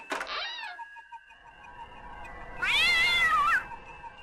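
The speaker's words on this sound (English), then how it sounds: "I told you there was going to be cats in these missions" A cat meows twice in the video game The Guardian of Darkness, first a short rising cry, then after a pause a longer, louder wavering meow over a faint background hum.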